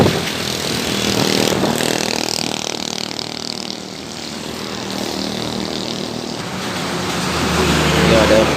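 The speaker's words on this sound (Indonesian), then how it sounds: "terpantau satu unit bus Intra" A jetliner coach bus of the Intra company drives past on a straight stretch of road, a loud, steady engine roar and rushing tire noise that swells slightly as it passes.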